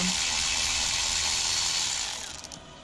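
A hand ratchet clicks rapidly and continuously while loosening 10mm bolts on a 2000 Corvette C5 during a fuel injector change, close and loud, slowing into a few separate clicks at the end.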